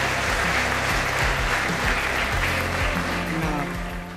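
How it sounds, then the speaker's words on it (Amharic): A church congregation breaks into loud, sustained applause during a service of praise. Dense clapping continues without a break, with low sustained tones beneath it, and fades slightly at the very end. "እስቲ ከፍ ያለ ጭብጨባ እናለች አለጌታ።"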